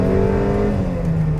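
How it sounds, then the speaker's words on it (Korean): A Mercedes-Benz GLB SUV accelerates hard, its engine drone loud and steady with a rising tone throughout, close and continuous with no talk. "급가속"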